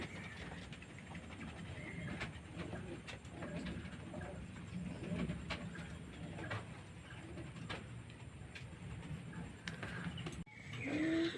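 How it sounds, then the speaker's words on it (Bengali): Faint pigeon coos and rustles come from a home loft of young pigeons, with a low steady background hum and a brief louder sound at the very end. "তো চলুন এবার পায়রাগুলোকে আপনাদেরকে ছেড়ে সব করায়"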